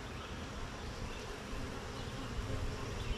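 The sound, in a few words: honeybees buzzing around beekeeper during hive inspection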